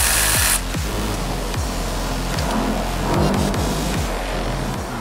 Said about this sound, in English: the last bolt is right here, and you can use your electric ratchet or whatever you got